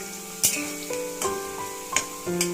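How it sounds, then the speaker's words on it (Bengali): Vegetables with bay leaf sizzling in a pan for vegetarian fried rice, a soft steady fry broken by a few scraping stirs, close and without voices. "সবজিটা আমার এখানে ভাজা হয়ে গেছে"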